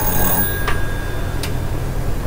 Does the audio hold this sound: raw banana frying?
no